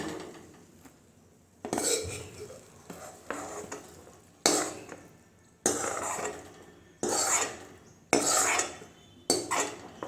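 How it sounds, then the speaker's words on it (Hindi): Kachnar leaf greens being spooned from a pan onto a plate, with repeated metal spoon scrapes and clinks against cookware in short bursts, fairly close and with no talking. "देखिए अब इसे एक प्लेट में इसे निकाल लेंगे।"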